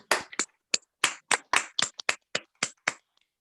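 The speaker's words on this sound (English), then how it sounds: "Unmute yourselves right now and clap so that everyone can hear" Online meeting participants clap over their connection, producing about a dozen sharp, distinct claps in an uneven rhythm, close and clear against silence.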